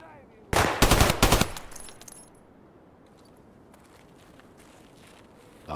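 Gunfire from an AI scav in Escape from Tarkov, a short loud burst of several shots in quick succession, then quieter rustling movement and faint clicks.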